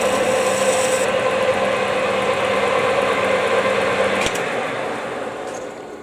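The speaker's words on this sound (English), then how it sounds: "Back chamfering, the last chamfer of the nuts." Steady rasping machining noise from a CNC lathe back chamfering nuts, continuous and close for most of the stretch, with a sharp click near the end before it eases and quietens.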